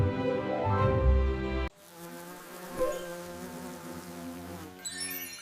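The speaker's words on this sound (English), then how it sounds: "What's that buzzing sound?" A bee buzzing with a steady, droning hum, close and loud at first, then a softer continuous buzz that wavers slightly in pitch.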